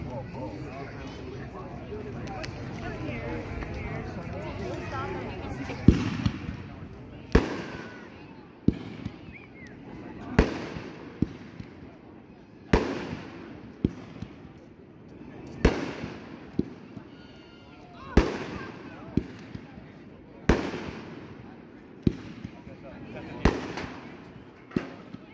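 A Sonic Boom consumer firework lets off a long series of loud, sharp report bangs at steady intervals of roughly two seconds, with crackling and a background hiss between the bursts.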